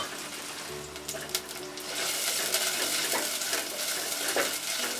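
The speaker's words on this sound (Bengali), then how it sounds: "তেল দিয়ে আমি ওয়ান ফোর্থ কাপের মতোই পেঁয়াজ দিয়ে দিব পেঁয়াজটা আমি হালকা একটু ভেজে নিব" Onion frying in oil in a pot starts as a quiet crackle with a few knocks, then around two seconds becomes a louder, continuous close sizzle.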